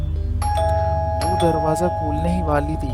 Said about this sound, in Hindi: घंटी बजती ही जा रही थी।